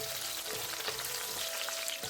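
Raisins sizzle in hot ghee in a pan while rava kesari is being made, a steady crackling fry with soft stirring taps, fairly quiet and close, no voices.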